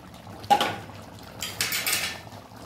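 A pot of tilapia curry with oil and chili being taken off the stove, giving a sharp metallic clank followed by a brief scraping, rattling shuffle of cookware up close, with no talk.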